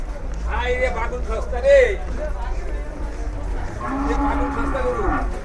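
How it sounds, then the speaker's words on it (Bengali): A cow at the Gabtoli cattle market moos as it is led away, two drawn-out calls separated by a pause, with voices chattering faintly around it. "গরুটি কিন্তু চলে যাচ্ছে"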